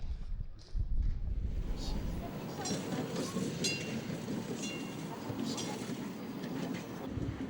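A tram tied to blockade-era Leningrad rolls along its rails with a steady rumble and clatter, rough and windy in places, while people talk over the sound.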